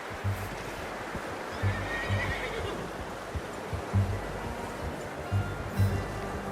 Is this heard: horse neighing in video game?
yes